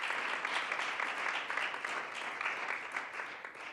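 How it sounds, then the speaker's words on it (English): Applause for scouts at a school board meeting, a steady wash of many hands clapping across the room, fairly distant and even throughout with no talk over it. "If you could give them a round of applause just to join us in congratulating their remarkable achievements."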